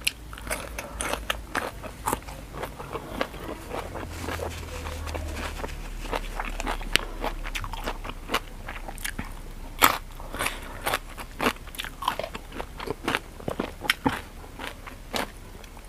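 Crispy fried pork leg bitten and chewed close to the mic, with repeated crunchy, crackling bites spread through the clip and faint background noise.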